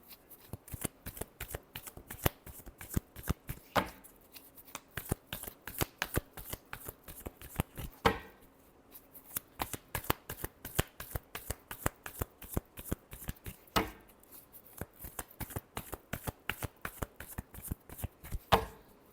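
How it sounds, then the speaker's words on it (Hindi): Tarot cards being shuffled by hand in quick, crisp riffling bursts, with brief pauses between a few rounds of shuffling, close and clear with no talking. "Last shuffle."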